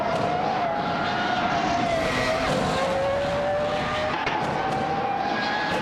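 Race cars in a racing video game roar past one another during an overtake, a dense sustained engine drone with shifting pitch sweeping through, loud and continuous with no voices.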